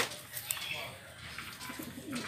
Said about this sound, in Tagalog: Ito naman yung pangalawa sa Kalapati natin, ano, si Falcon.